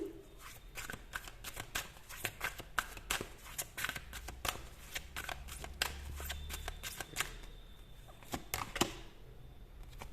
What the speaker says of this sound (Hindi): यहां से मैं कुछ कार्ड्स निकालूंगी।